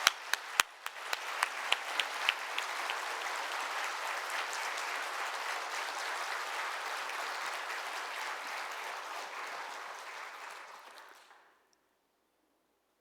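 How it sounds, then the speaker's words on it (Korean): Church congregation at an autumn revival meeting of Healing Church breaking into applause: a few scattered claps swell into sustained, full clapping that carries on for about ten seconds, then fades out into silence. "우리 감사의 박수 한번 하고"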